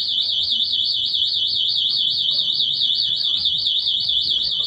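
A loud, continuous warbling electronic alarm tone from a home security system, triggered in a condo model unit, wails steadily without pause, high-pitched and piercing.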